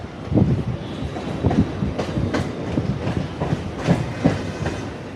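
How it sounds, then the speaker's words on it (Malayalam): A Chennai suburban train pulls away, its carriages rolling with a loud, close rhythmic clatter of wheels over rail joints and a rumbling undertone, with no talk. "വണ്ടി എടുത്തു, അടുത്ത സ്റ്റേഷനിലോട്ട് എത്തിയിരിക്കുവാണ്."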